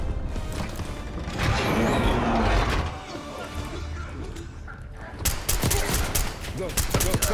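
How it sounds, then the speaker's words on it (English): Rapid bursts of suppressing gunfire in the Black Ops 6 campaign, loud and dense with overlapping shots and combat noise, ending in a string of sharp individual cracks. "Suppressing fire."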